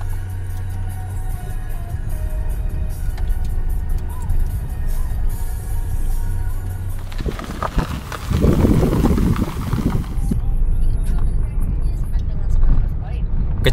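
An automatic car crawls slowly over a rough, rocky, damaged road. Its engine hums steadily, then loud bumping and crunching from the tyres on stones swells in the middle, with a voice talking over it.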